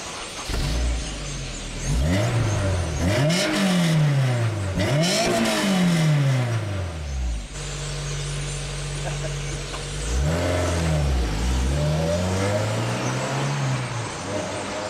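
A Honda S2000 engine on a race track climbs repeatedly through the revs, rising and falling in loud, close sweeps as the car accelerates and shifts through gears, with a steadier cruising drone in between.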